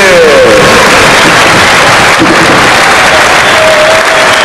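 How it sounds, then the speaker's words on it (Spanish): Loud, sustained applause for the Banfield B football team after winning promotion, dense clapping from a crowd with a faint murmur beneath. "Fuerte el aplauso para Banfield B."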